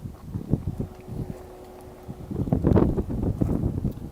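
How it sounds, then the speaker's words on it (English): Gusty wind buffeting a microphone outdoors at a drone flying spot, with a low rumbling roar that swells and fades in uneven bursts and a faint steady tone in the background. "A little more windier out here"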